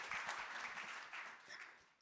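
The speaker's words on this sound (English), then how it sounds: "Round of applause for you guys." Audience applause at a SXSW 2024 panel session, a steady wash of many hands clapping that fills the room and fades slightly toward the end.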